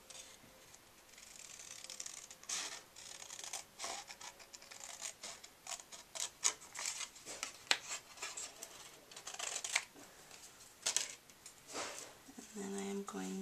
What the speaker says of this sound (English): And then I am going to cut it out.